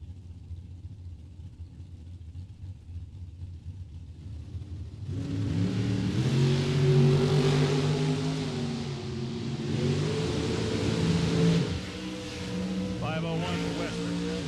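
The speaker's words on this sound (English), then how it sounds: "And maybe the longest burnout of the day" A drag racing car doing a long burnout at a drag strip, with a sudden loud roar of engine and tire rising and sustained for several seconds under a track announcer's voice, then easing slightly before surging again.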